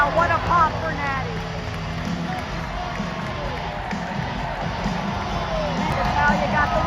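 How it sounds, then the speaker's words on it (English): An arena crowd at WWE Raw in Greenville cheers and roars for a wrestler, a dense continuous wash of noise with shouts and whistles rising above it. "the crowd was electric for Natalia. They were going crazy for her."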